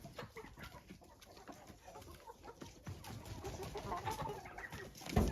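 Hens clucking while pecking at whole apples, a busy run of soft clucks and pecking taps that grows livelier toward the end, with a louder knock at the close.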